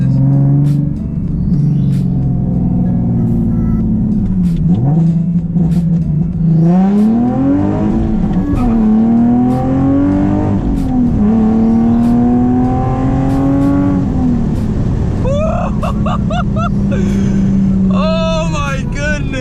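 A Nissan 370Z engine revs hard while driving on an open road, loud and close, its pitch climbing and falling through several pulls and gear changes, with faint talk under it near the end.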